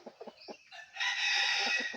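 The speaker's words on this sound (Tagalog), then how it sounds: "Ito yung inahin ko mga kasabay." Native jungle fowl hen calling up close: a few short clucks followed by a sustained, loud raspy squawk, with soft clucking continuing underneath.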